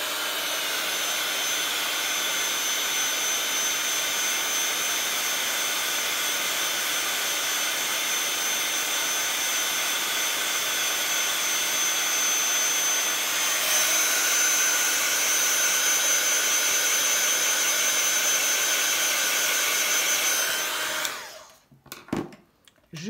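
A heat gun blows hot air steadily to stiffen a crumpled decorative ribbon, a loud, even whooshing roar close by that shifts slightly midway and cuts off near the end, with no voices.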